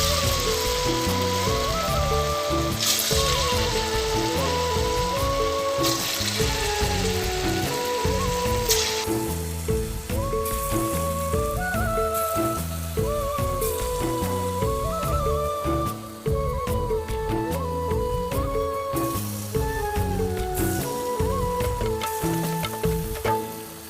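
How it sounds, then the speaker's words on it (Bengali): Palm pitha fritters deep-fry in hot oil with a dense, steady sizzle and crackle, heard under continuous background music. "এখন সর্বশেষ ধাপ ভেজে নেয়ার পালা"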